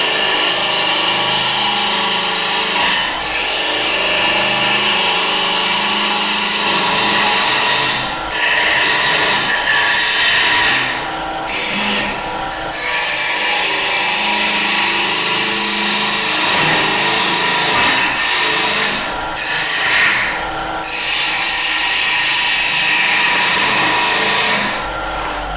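A wood lathe spins a natural-edge wooden vase blank while a gouge shapes its curve, giving a steady loud whirring rumble with repeated scraping cuts and brief pauses and bursts as the tool works.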